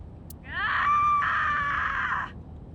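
A character in the video game AI: The Somnium Files lets out a sustained, tonal scream of about two seconds, strained and held, steady in loudness, then cut off, with no talk over it.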